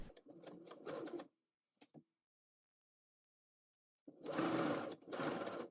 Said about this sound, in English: I thought it'd be a good idea to use a basting stitch to sew it together